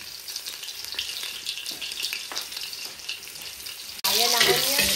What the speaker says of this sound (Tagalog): Ayan, nasa kulay brown na po ang ating sibuyas at garlic.